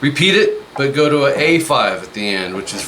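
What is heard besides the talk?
None of the usual background noises is heard.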